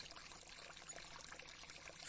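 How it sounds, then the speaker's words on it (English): Small river flowing along a path, a steady soft trickle and wash of water that stays faint and even throughout, with no voices over it. "A small river runs along the path."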